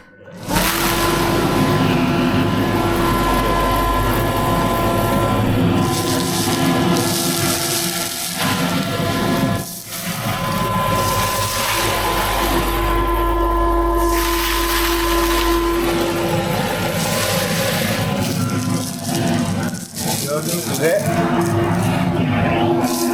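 A Scheppach DC500 dust extractor runs in a workshop, set up to collect wood shavings. It gives a loud, steady motor roar with brief dips around ten and twenty seconds, sustained for over twenty seconds.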